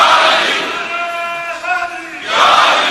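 A large crowd at a religious gathering marking the Battle of Badr chants slogans in unison, a loud sustained roar of many voices with a tonal, sung quality that dips briefly and then surges again.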